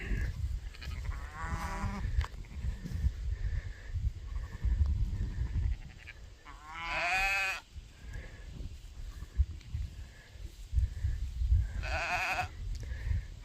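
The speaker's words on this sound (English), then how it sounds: "woolly sheep" Woolly chocolate-coloured sheep during lambing, bleating in three distinct calls spaced across the clip, fairly close, over a low rumble of barn background noise.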